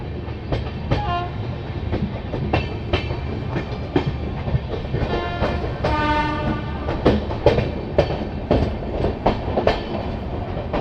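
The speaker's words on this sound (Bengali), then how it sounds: "ট্রেন তার যাত্রাপথে অন্যতম গুরুত্বপূর্ণ halt Malda town station enter করছে" The Tebhaga Express 13162, hauling new LHB coaches, rolls into Malda Town station in the morning with a rhythmic clickety-clack of wheels on rail joints and a loud horn blast partway through.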